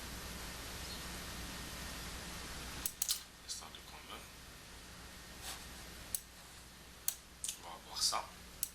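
Sharp, dry mouse clicks during a software installation on a computer, a handful of quick taps scattered over a few seconds after a stretch of steady background hiss, close to the microphone with no voice over them.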